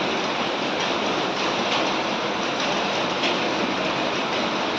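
Heavy rain pours down in a dense, even roar that never lets up, with no voices present.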